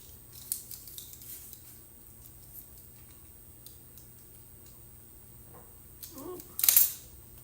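Scissors cut around a paper tag for a handmade pocket journal. The snipping stays faint and sparse in a quiet room, then one louder, crisp cut comes near the end, with no talking.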